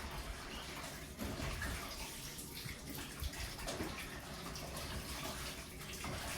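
Running water pours steadily over a catfish being washed by hand, a continuous splashing rush like a tap filling a basin, close and fairly loud throughout with brief surges.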